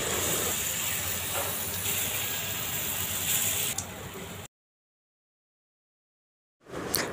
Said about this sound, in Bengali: এই পর্যায়ে একটি চামচের সাহায্যে পিঠাগুলো গরম ডুবো তেলে ভেজে নিতে হবে এক এক করে।